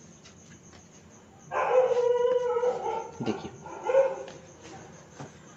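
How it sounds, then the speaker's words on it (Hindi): Several dogs bark and howl together in a burst that starts abruptly and carries on, fairly loud and near, with a few more yelps trailing after, while someone speaks briefly over them. "शुरू किया कुत्तों ने भौंकना।"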